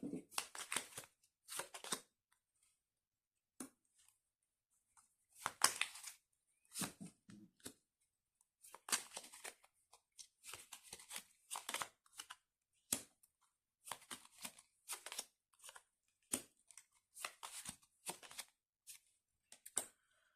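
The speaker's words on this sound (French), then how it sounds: "Je vais étaler les cartes et puis on verra après ce que ça donne." Tarot cards are shuffled and spread out on a surface: close, quiet papery riffles and slides come in intermittent bursts separated by silent gaps.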